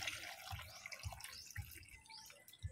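Water runs steadily from a tap into a container, fetched for a fish and shellfish broth, a faint splashing wash with soft rhythmic knocks underneath.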